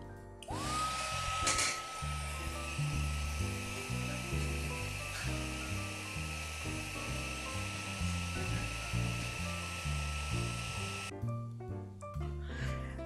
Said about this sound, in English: Next, I'm going to heat emboss this in clear ink